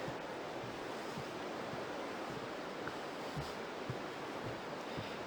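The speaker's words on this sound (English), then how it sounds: "It's pretty zen as you're just listening to the river flow." The Aare river rushes through the narrow Aareschlucht gorge in a steady, even wash of water noise at moderate distance, with no voices and only faint soft thumps underneath.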